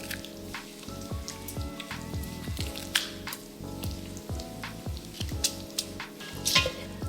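Bacon frying in a pan for potato soup, with a steady dense crackle and sizzle running throughout, sharp pops scattered over a constant low bed of kitchen noise.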